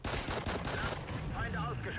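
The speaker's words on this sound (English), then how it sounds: "So I take the sentry gun here." Sentry gun firing in Call of Duty Ghosts, a dense run of rapid automatic shots that stays loud for the whole stretch, with a voice talking faintly beneath the gunfire.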